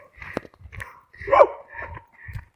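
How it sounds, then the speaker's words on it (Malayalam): A dog barks in short bursts, loud and close, with one stronger growling bark near the middle and quieter yips around it, outdoors on a walk in the hills near Madrid. "അവർക്ക് മനസ്സിലായി ഇതേതോ മലയാളിയാണെന്ന്, മലയാളി പട്ടിയാണെന്ന്"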